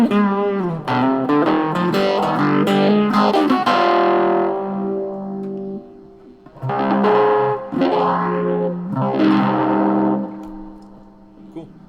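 Distorted electric guitar chords and single notes played through a DOD 401b bass phaser pedal, with a slow sweeping phase swirl over sustained notes, in several bursts separated by short pauses.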